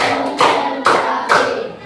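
A group claps hands in unison on command, giving a few crisp, loud, evenly spaced claps with short pauses between them.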